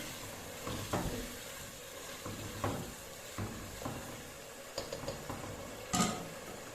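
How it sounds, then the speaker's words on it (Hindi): Chicken nuggets stirred together with cooked vegetables in a pan, soft scraping strokes and light clinks over a quiet background sizzle, spaced irregularly and fairly close. "इसको अच्छी तरह से हम मिक्स करेंगे।"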